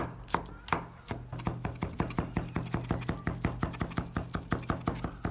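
Peeled tomatoes being finely chopped with a knife on a board: a steady, rapid run of crisp close knocks, several per second, with no talk.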